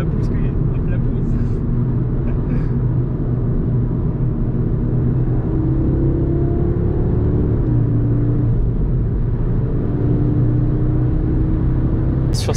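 A car pulls hard under acceleration, its engine a loud steady drone with tones rising through the gears, while a person talks over it inside the cabin.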